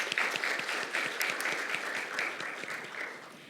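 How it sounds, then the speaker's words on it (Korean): An audience at a legal symposium on North Korea-related litigation claps after a panel discussion, a dense patter of many hands in a hall, strongest at the start and gradually tapering off. "모든 분들께 다시 한번 큰 박수 부탁드리겠습니다"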